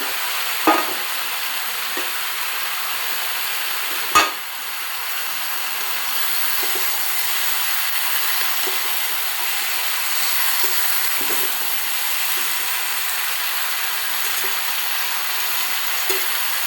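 Chopped bottle gourd sizzles in a hot pan with a steady, even frying hiss, broken by a couple of sharp knocks of a utensil against the pan, with no talking.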